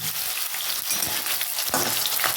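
Boiled young jackfruit frying in small batches in a pan, with a steady bright sizzle and crackle, close and constant, plus a brief stirring scrape, and no talking.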